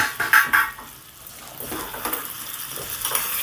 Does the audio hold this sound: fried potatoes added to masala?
yes